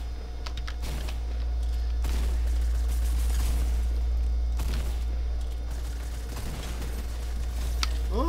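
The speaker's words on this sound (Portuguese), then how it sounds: "Eu vi tiro rasante por aqui." Fortnite gunfire with sharp bursts and booming shots at intervals over a steady low hum, mixed with keyboard tapping close by.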